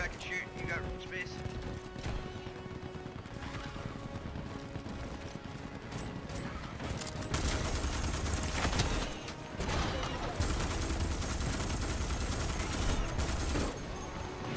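Gunfire in Starship Troopers, scattered shots at first, then dense sustained bursts of rapid fire growing loud in the second half, with people talking over the action.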